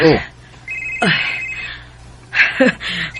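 A telephone rings in a domestic drama scene, giving short repeated bright ringing bursts. Voices talk over and between the rings.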